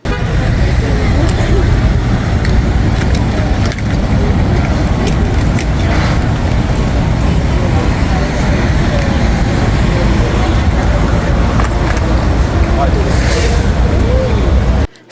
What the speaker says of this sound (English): This is the passenger loading area where you wait for your ride.